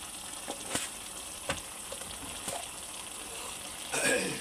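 Bottle gourd and a fish head cook together in a pan, giving a faint, steady sizzle with a few sharp clicks of a utensil against the pan and a louder stir of spattering near the end.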